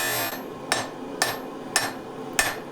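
Four sharp, evenly spaced hammer blows ring out on a steel billet at a forge, setting a forge weld for feather-pattern Damascus, each strike a bright metallic clang over a low steady background hiss.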